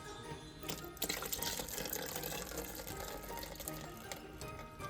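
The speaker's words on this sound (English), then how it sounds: "You take the water and put it into the cylinder here" Water pouring into a hydrometer cylinder during dragonfruit winemaking, a continuous close splashing fill with a trickling edge, running unbroken with no talk.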